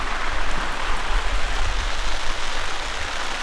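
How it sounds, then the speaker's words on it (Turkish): Steady, dense heavy rain drums on a taut tent overhead at night on Çambaşı Plateau in Ordu, Turkey, a loud continuous patter with no pauses or voices. "Bayağı yağmur başladı."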